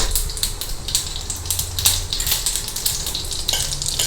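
Mustard seeds fry in hot oil for ivy gourd masiyal, a close, dense crackling sizzle with rapid pops and spatter running throughout the short stretch.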